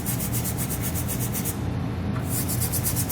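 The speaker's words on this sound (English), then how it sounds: "I'm going to come back with a nylon tube brush" A nylon tube brush scrubbing rust from a vehicle frame while cleaning weld nuts for a trailer hitch install on a 2017 GMC Acadia: a continuous close, gritty scrubbing with quick regular strokes.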